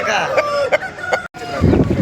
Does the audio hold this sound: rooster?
yes